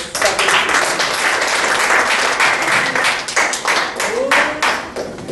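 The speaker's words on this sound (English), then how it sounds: "A round of applause for" Audience clapping for a speaker at an African online talk show, steady dense applause throughout with scattered louder individual claps and a voice briefly audible beneath it.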